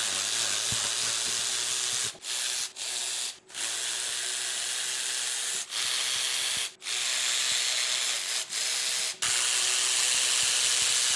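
Milwaukee power tool loosening head bolts on a Toyota 1UZ V8 engine, a loud continuous whirring buzz near by, broken by several brief stops and restarts.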